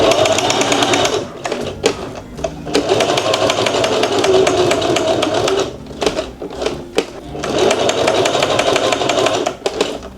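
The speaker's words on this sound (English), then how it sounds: "When I get closer to the edges, I like to just walk my needle so that I don't stitch past it." A sewing machine stitching vintage Levi's denim for a circle bag, running in long loud continuous bursts with brief pauses and short stop-start stretches where the needle is walked slowly near the edges.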